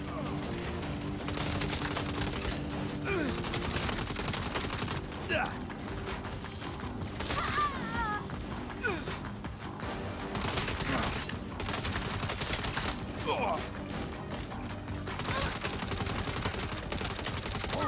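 Rapid automatic gunfire in Saints Row (2022) on Xbox Series X rattles in repeated bursts with mechanical clatter, mixed with other game sounds and players talking over it.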